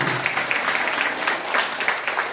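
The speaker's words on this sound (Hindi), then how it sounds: "ऐसे तीसरी तालियां, जोरदार आवाज ताली होनी चाहिए" A crowd claps steadily and loudly, a dense patter of many hands with no break.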